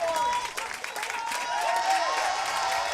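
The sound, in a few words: crowd cheering at boys lacrosse game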